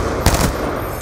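Burst of automatic gunfire in Call of Duty Black Ops II online multiplayer, a short loud volley of rapid shots over steady game ambience.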